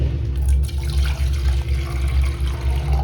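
Water pouring steadily into floor drain pipes during a toilet plumbing leak check, a continuous loud gushing and splashing close by with no speech.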